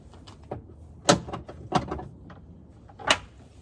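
Door of a 2004 Toyota Sequoia opened and shut several times after new door checks were fitted, giving three sharp close thumps with softer latch and hinge clicks between them, close by with no talk.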